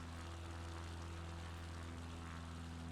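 Propeller plane engine at full throttle in Microsoft Flight Simulator, a steady droning buzz with strong low harmonic hum, continuous and unchanging at low volume.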